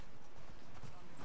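Horse hooves clip-clopping in The Last of Us Part 2, a brief steady patter of hoofbeats with game ambience around it.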